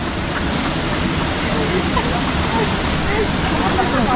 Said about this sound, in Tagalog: Malakas kasi ang agos.